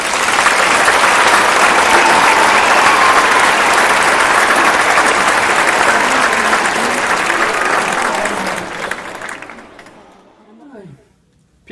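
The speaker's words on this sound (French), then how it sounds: "Manifestons-leur toute notre reconnaissance et notre fierté par nos applaudissements" An audience at a school gala breaks into loud, sustained applause that carries on steadily, then thins out and fades to scattered claps near the end.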